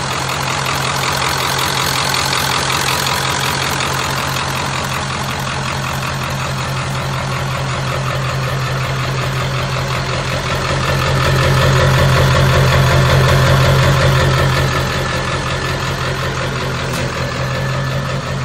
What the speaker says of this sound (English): the truck's just idling away